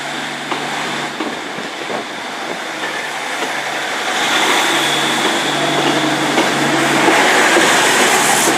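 Diesel multiple unit working hard at Exeter St David's station, a loud close engine drone with rail clatter that swells in intensity partway through and stays strong to the end.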